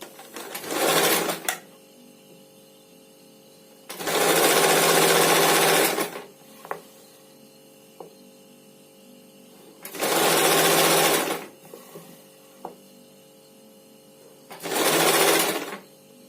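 Sewing machine stitching a frock slip, running loud and close in four separate bursts of steady whirring, each lasting one to two seconds, with quiet pauses and a few faint clicks between runs.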